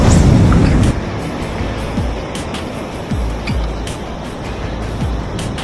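Big winter sea waves break and wash on a rocky shore ledge, a loud crash at the start followed by a continuous rushing surf roar with recurring swells.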